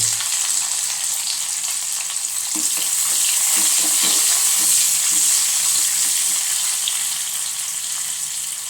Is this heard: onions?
yes